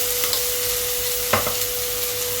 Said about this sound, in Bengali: এটাকে আমি ভালো করে ভাজা করে নিচ্ছি